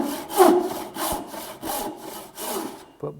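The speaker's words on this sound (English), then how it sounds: "It's a rip saw, remember, not a crosscut." A frame saw, or bow saw, rip-cuts wood in about five rhythmic rasping strokes, close and clear, with no voices.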